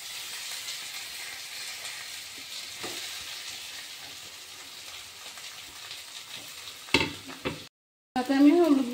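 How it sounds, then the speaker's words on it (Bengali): Mashed potatoes fry in oil with a steady, close sizzle and soft stirring, then a sharper clatter of the utensil against the pan near the end before a brief break. "একই তেলে আমি ম্যাশ করা পটেটোগুলো ভেজে নিচ্ছি।"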